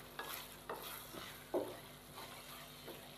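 Chicken masala filling for bread patties being stirred with a spoon in a pan over a normal flame, a faint low sizzle with four or five soft spoon scrapes at regular intervals, no talking.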